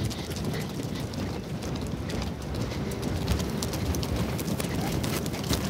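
Horses walking on an Icelandic trail ride, passing other riders and hikers: a steady wash of hoof clip-clop mixed with broad outdoor noise, close and continuous throughout.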